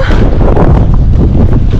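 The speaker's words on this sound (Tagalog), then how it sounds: "Ang hangin, no?" Strong wind gusts buffet the microphone outdoors on a walk in Finland, a loud, rumbling, continuous rush with no voices.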